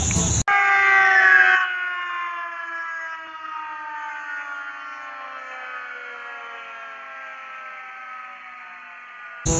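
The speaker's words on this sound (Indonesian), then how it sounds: "lihat di sini ada mobil pemadam kebakaran." A fire truck siren wails loudly nearby, holding a long tone that slowly winds down and fades, cut short by a click at the start and end.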